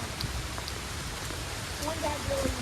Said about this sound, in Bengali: বৃষ্টি তো আসি বৃষ্টি থামতেও আছে না